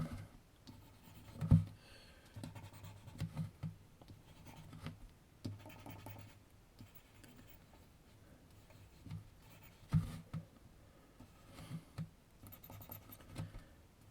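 A pencil scratches across paper while a portrait of a girl's face is shaded, making quiet, intermittent strokes in short bursts with pauses, some firmer scrapes standing out.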